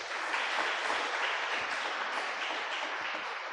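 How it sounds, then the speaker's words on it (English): A church congregation at an evening novena Mass for Saint Jude applauds in a steady, even wash of many hands, sustained at one level throughout with no voices over it. "We give them a round of applause."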